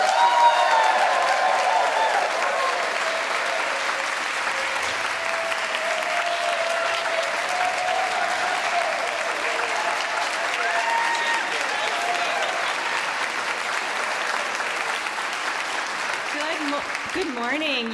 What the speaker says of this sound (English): I want to give a big round of applause for Jillian and Jenny Walsh